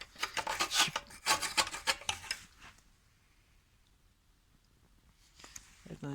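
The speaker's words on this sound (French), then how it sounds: "Là, je vais essayer de gratter plus haut." Scraping inside the fuel tank of a Peugeot Fox moped, heard as a run of close, rough rasping strokes for a few seconds, then near silence, with a brief faint scrape at the end and some quiet talk.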